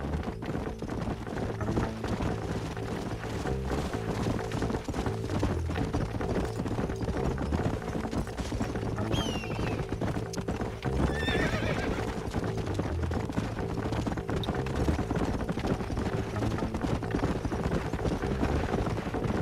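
Horses gallop with continuous thudding hoofbeats and neigh loudly partway through, set against a rhythmic musical backdrop in the Red Dead Redemption video game.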